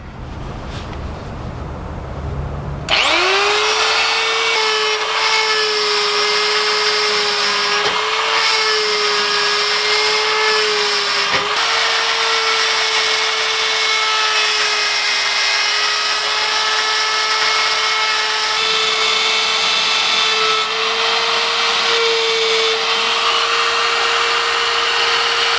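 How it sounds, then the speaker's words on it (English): A power grinder works the welds on Tesla-powered Vanagon motor mounts, spinning up abruptly after a brief quiet start into a loud, sustained high-pitched whine that holds steady with slight pitch wavers for over twenty seconds. "let's grind these ugly welds"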